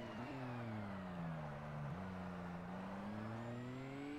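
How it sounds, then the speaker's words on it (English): Race car engine in the Forza Motorsport video game, during an Asian R-GTS Open race: a loud, steady, close engine drone that dips briefly as it shifts gears, then climbs again, with no talking. "I do like the way that this car's engine sounds."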